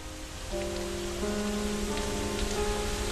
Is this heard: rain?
yes